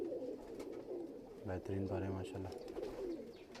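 Flight pigeons of the churail breed coo in a low, brief burst near the middle, with someone talking over them close by.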